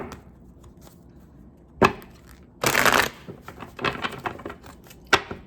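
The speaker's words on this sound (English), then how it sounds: "I'm just going to shuffle one more time." Tarot cards riffle and slap together in a couple of quick bursts, with scattered taps and handling noises between them, close by.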